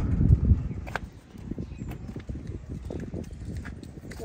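Hooves of three newly arrived horses, two colts and a filly, shuffle and clop at a horse farm, with a loud thump near the start and soft scattered steps after it.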